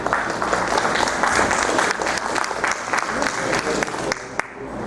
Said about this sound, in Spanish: Recibimos con un fuerte aplauso a la doctora Elio Mejía.